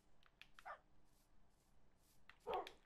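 Cartoonish dog barks and yips from Minecraft animals, two brief bursts early and a louder one near the end, over faint game background.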